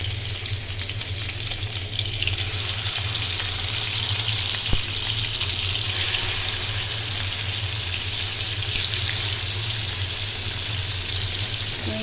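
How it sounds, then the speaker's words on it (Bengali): Spiced rohu fish frying in hot oil, a steady close hiss and sizzle that holds evenly for the whole stretch, with one sharp tick midway. "এখন মাছটা আমি ভেজে নেব।"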